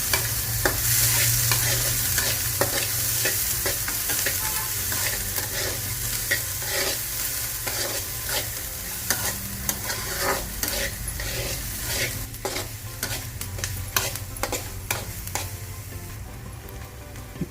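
Chopped onions and green chillies frying in a pan, a steady close sizzle with frequent scraping and stirring clatter throughout, no talking.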